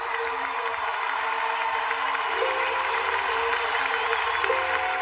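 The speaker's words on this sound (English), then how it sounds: "The crowd appreciating the defending world champion at this event" Stadium crowd at an athletics championships cheering and applauding defending world champion Dalila Muhammad, a steady, broad roar of distant applause and voices that holds evenly throughout.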